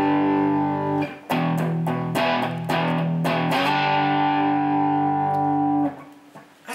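An electric guitar plays a few plucked notes through a Blackstar HT Delay pedal, each note ringing and repeating into a lingering tail that fades out at the end.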